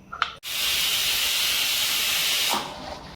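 A loud, steady hiss of escaping steam from a pressure cooker whistle bursts out after a brief clatter and holds for about two seconds before cutting off.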